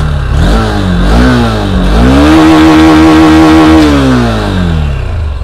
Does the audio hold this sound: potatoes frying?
no